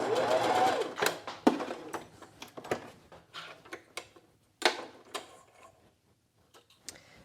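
A sewing machine stitches a seam on a pair of pants and finishes with a backstitch, running in short close-up bursts of rapid mechanical clatter separated by brief pauses.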